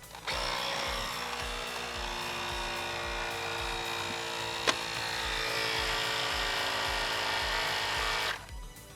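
A Nerf blaster's air system pressurizes with a steady motorized buzz and rapid rhythmic pumping pulses lasting about eight seconds, plus one sharp click midway.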